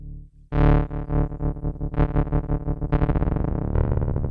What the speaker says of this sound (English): just like the ring modulator, which at low volume, at low amounts, gives you some interesting, almost like a tremolo.